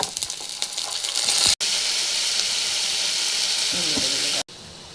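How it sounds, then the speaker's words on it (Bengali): Onions and ground spices sizzling in hot oil in a pan, a steady, bright, close frying hiss that cuts out briefly twice. "তেলে কিছু পেঁয়াজ ভেজে নিই।"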